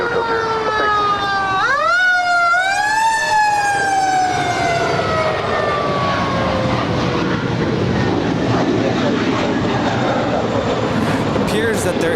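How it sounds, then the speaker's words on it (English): A wailing emergency vehicle siren near LAX sweeps up and down loudly, its rising and falling tones clear at first, then fading into a rumbling background of traffic noise. "we got more sirens. Bring the sirens. Sound the alarm."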